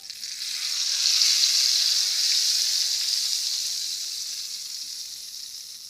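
Red chilli powder hits hot oil in a tadka for commercial-style gravy chickpeas, making a steady hissing sizzle that swells, then slowly eases off, close and uninterrupted with no voices.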